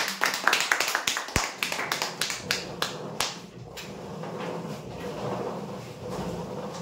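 A crowd claps loudly for a rolling-chair prize winner at a customer lucky draw, with rapid clustered claps that thin out and stop after about three seconds, leaving room murmur.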